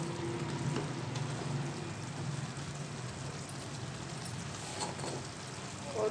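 White beans (lobiya) being fried in a pan, a dense continuous sizzle like light rain, loud and close with occasional stirring scrapes throughout.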